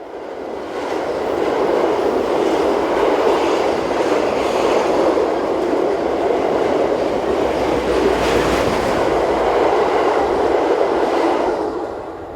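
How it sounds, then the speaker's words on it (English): A northbound mixed freight train headed by class 185, 133 and 122 locomotives rumbles past a station platform bound for Mannheim, with a steady loud roar of wheels and wagons holding for the whole stretch and no talk. "185, 133 and 122 are the first to be seen heading this northbound freight bound for Mannheim"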